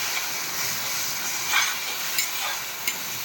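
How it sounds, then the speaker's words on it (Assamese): Tenga leaves frying in hot oil with onion and green chilli in a wok, a steady broad sizzle with a few brief louder crackles and stirring scrapes. "টেঙামৰা পাতটো আগতে ভাজি ল'ম"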